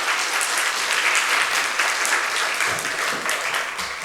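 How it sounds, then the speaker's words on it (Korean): A church congregation applauding to welcome the pastor, a dense, steady wash of many hands clapping at once, loud and continuous throughout, with no voices standing out. "우리 목사님 나오실 때 박수로 목사님을 환영해 주시기를 바랍니다."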